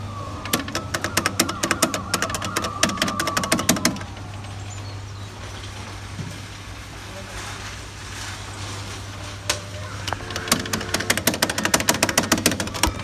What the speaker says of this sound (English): And that was the JollyTown Fire Engine kiddie ride by Jolly Roger.